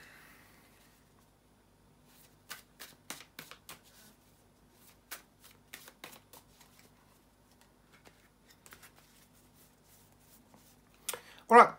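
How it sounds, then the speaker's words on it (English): Tarot cards are shuffled by hand, with irregular bursts of crisp riffling and snapping separated by short pauses, close and fairly quiet, before a louder clatter at the end. "bear with me a second, guys, to shuffle the tarot cards"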